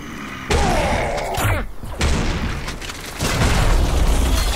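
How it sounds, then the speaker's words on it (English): Grenade explosions in the video game Serious Sam 4 go off as a few heavy booms with sustained rumbling blasts in quick succession, loud and close, with chaotic combat noise between them. "Grenades again."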